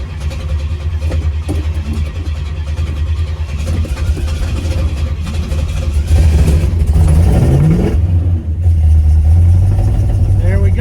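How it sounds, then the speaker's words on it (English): A classic Pontiac GTO, not driven in a while, cranks and turns over on a hot day, its engine catching and revving in a loud, steady low rumble with some voices mixed in. "let's see if we can get this car started"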